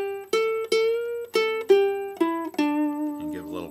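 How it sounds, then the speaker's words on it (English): Single ukulele notes from a song's intro, plucked clearly and close up, with a note bent upward and sustained; about half a dozen ringing plucks in an uneven rhythm, alone without talk. "And you could also bend it up like this."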